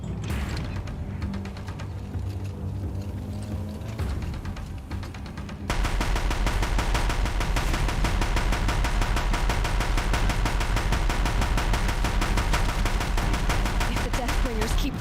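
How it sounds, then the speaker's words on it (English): Deathbringer machine-gun fire in Horizon Zero Dawn, a rapid, relentless mechanical rattle that grows louder and denser about a third of the way in and then pounds on steadily, with speech mixed beneath. "If the Deathbringers keep firing, this bridge will go"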